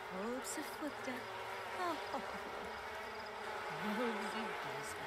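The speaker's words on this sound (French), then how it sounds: "Elle va commencer par nouer un lien avec les abeilles et ensuite elle va récolter le miel." Bees buzz in a video game as a character bonds with them and harvests honey, a low, steady drone of insect noise under a speaking voice.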